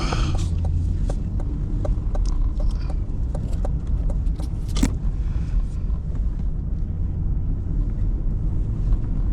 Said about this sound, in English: It's super windy out, super windy out.